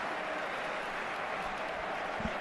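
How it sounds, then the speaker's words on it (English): Football crowd applauding in a large stadium during a Real Madrid versus Real Betis match, a steady wash of distant clapping and crowd noise that holds evenly throughout. "The crowd appreciates the effort"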